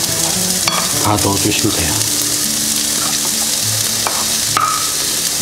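Sweet potato and pumpkin frying in olive oil in a pan, a steady close sizzle with stirring scrapes and clatter, a voice speaking briefly over it.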